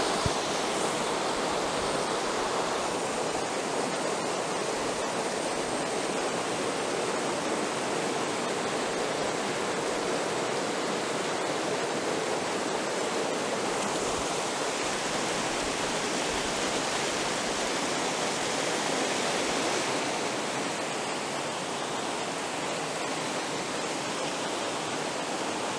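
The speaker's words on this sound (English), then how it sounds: "Look at how the water is churned up, foaming." A river waterfall pours loud and steady, its churned, foaming water giving a dense, unbroken roar of rushing white water close by with no voices.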